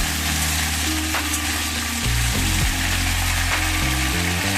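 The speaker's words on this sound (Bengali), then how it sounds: "গ্যাসের ফ্লেমটাকে মিডিয়ামে রেখে ফুলকপিগুলোকে হালকা করে ভেজে নেবো" Cauliflower pieces frying lightly in hot refined oil over a medium gas flame sizzle steadily, with a strong low hum and occasional clatter running underneath.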